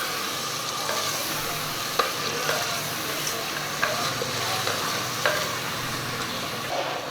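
Mutton being stirred into cooked masala in a frying pot, a steady sizzle with scraping spoon strokes against the pan at irregular intervals.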